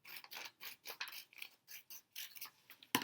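Scissors snip through a sheet of paper in quick, repeated cuts, about a dozen short crisp strokes in a steady rhythm, close and fairly quiet with no talking.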